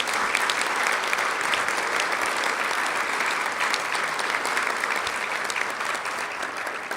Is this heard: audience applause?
yes